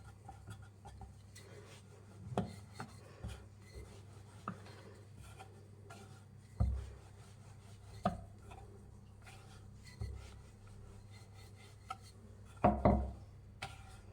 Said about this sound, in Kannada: ಈ ಥರ ಈಗ ಲಟ್ಟಿಸ್ಕೊಳ್ಳೋಣ.